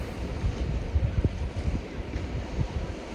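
Ocean waves wash steadily on the Causeway Coast in Northern Ireland, a low rumbling surf mixed with wind buffeting the microphone, with no voices.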